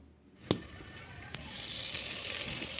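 Onions sizzling as they fry in a pan for a dhaba-style spinach chicken curry, a steady close crackle that swells after a couple of soft clinks, with a sharper clatter near the end.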